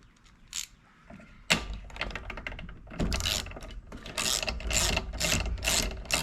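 Ratchet clicking as it turns a spark plug socket on a Honda HRN216 lawn mower, a run of quick close ratcheting strokes in short bursts with brief pauses between them.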